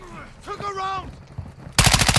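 Rapid burst of automatic gunfire in a video game erupts loudly at the end, following a stretch of player talk and faint background game sounds.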